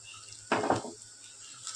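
A spoon stirs cooked telpat wild vegetable in a cooking pot, giving one short, close scraping rustle over a quiet background hum.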